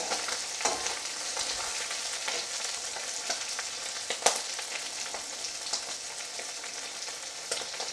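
Bata fish sizzle gently on low heat in a frying pan, a continuous close hiss dotted with small pops and an occasional sharper tap from the spatula.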